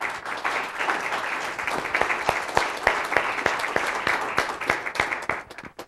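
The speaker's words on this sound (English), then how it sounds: "So here, a round of applause for Geraldine and her great talent" An audience applauds painter Geraldine at a community founders' evening, a steady wash of clapping with sharp individual claps standing out near the listener, fading at the end.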